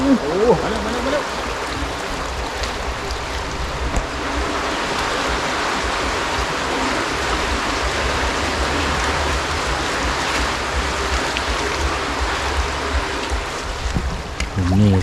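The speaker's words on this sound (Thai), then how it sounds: "อันนี้เป็นน้ำคลองเนาะไหล" Canal water flows and rushes continuously, a steady close-up wash of noise, with faint voices occasionally audible beneath it.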